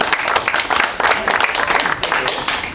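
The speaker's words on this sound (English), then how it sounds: "Give him a round of applause." An audience at a fire police training session gives a round of applause, with loud, dense clapping close by that holds steady and thins a little toward the end.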